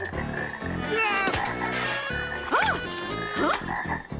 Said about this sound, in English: We have some frogs here for you. Lots of frogs.